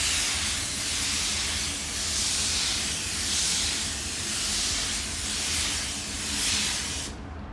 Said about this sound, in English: what I'm gonna do is I'm gonna shoot my color from behind this foam and from on top of this foam